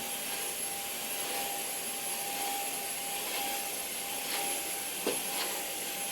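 A budget store vacuum cleaner runs at a steady, high whirring pitch close by, with a brief light knock partway through.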